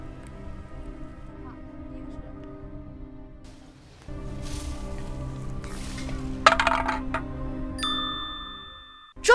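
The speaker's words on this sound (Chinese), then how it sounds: "孙建全在深思熟虑后抛出的第二杆，将20米外的第一个易拉罐击中了" A fishing lure, cast about 20 metres, strikes an aluminium drink can, giving a single sharp metallic tick partway through over steady outdoor background noise and hum.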